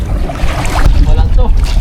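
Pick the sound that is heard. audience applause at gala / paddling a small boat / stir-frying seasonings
paddling a small boat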